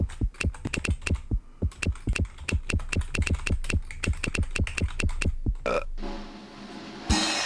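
Keys on a computer keyboard are struck in a steady run of sharp, close clicks for about six seconds. A brief clatter follows, then a rough, hissing noise at the end, with no talking.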